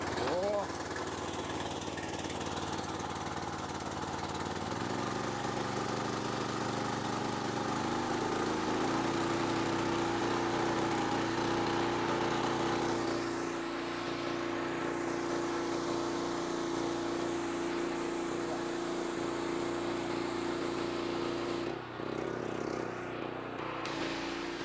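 A gasoline-powered pressure washer engine runs steadily throughout, its drone steady and loud, with a sustained tone settling in partway through as the load changes; someone talks over the machine.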